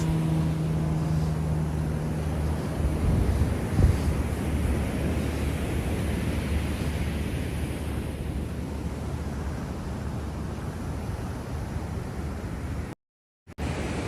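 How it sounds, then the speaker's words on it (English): Surf rolls in at a beach at the south end of Delray Beach in South Florida, a soft steady wash of waves mixed with wind buffeting the microphone, briefly cut out near the end. "Beautiful beach."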